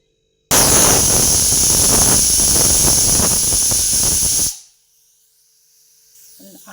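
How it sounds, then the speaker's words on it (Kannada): A pressure cooker of lentils on a gas stove vents steam in a loud, steady hiss for about four seconds, then cuts off abruptly, leaving near silence. "ಈಗ ಇದು ಒಂದು 6 ವಿಸಿಲ್ ಬರಲಿ ಚೆನ್ನಾಗಿ."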